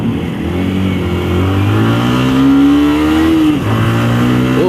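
A loud, close motorcycle fitted with a racing exhaust revs and drones, its pitch rising and falling in long throttle sweeps with a brief dip near the end.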